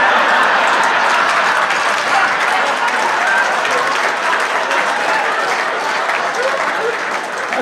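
A large audience at a Saginaw County Sports Hall of Fame ceremony breaks into loud, sustained applause, a dense unbroken wash of clapping that stays strong throughout and fades only slightly at the very end.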